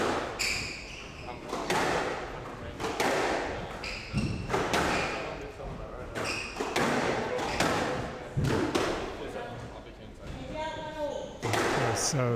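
During a hard-hitting professional squash rally, the ball cracks repeatedly off rackets and court walls in quick irregular thuds and echoing smacks, heard under continuous commentary.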